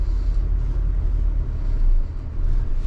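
A 2021 Hyundai Elantra with a manual transmission idles low in first gear at the clutch bite point, giving a steady deep engine rumble with slight swells in loudness and no talking.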